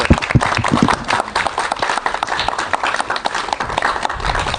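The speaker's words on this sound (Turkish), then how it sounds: "Alkış." Scattered applause from a small group follows an interview, with sharp individual claps that come in uneven bursts and then thin out, close and fairly loud.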